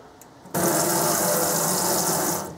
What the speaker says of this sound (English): Lift the lid up, swivel the tap to you.